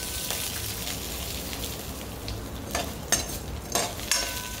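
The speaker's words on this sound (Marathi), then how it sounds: "मीडियम गॅसवरती हे ड्राय रोस्ट करायचे आहेत" Dry rice tossed in a pan over a medium gas flame gives a soft, steady sizzling hiss. Several sharper scraping stirs come near the end.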